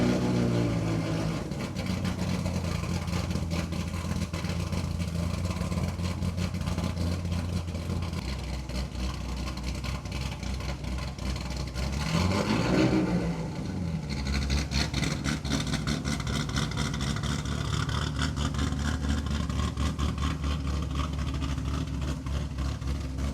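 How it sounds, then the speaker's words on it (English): A Chevrolet Corvette C6Z V8 engine starts and then settles into a close, steady idle. The tone shifts partway through, and one sharp rev rises and falls before it returns to idling. "Starting this car really never gets old"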